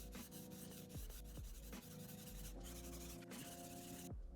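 A santoku knife is ground on a 220 grit whetstone to thin the blade. Steady, rhythmic scraping strokes repeat quietly at close range with no voices.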